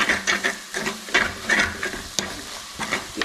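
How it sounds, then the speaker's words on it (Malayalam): Coriander powder being sautéed in a pan for a Kerala-style beef curry with tapioca, a close, soft sizzle broken by rhythmic scraping strokes of a spatula stirring the spice. "കാരണം ആ മല്ലിപ്പൊടിയുടെ ഫസ്റ്റ് ആ മണമൊന്ന് പച്ച മണമൊക്കെ മാറാൻ വേണ്ടി ഒന്ന് വഴറ്റി കൊടുക്കാം"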